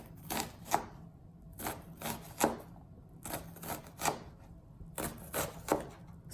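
A kitchen knife slices through an onion on a cutting board in a cooking lesson, giving crisp, regular chopping strokes in quick clusters, close and fairly quiet, with brief pauses between runs.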